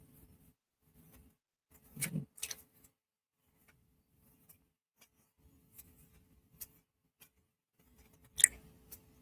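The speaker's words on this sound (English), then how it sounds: "So I have to shuffle the cards." Playing cards riffled and shuffled in two short bursts, one early and one near the end, with soft ticks and handling noises in between, close up and fairly quiet.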